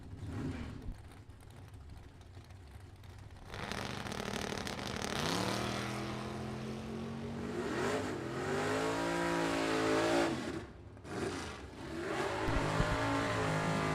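Corvette with a 540 cubic inch engine and a 1975 Camaro with a 383 small block drag racing: loud engines rev up, then two roaring launches with rising pitch as the cars accelerate away, followed by a brief dip and more engine noise.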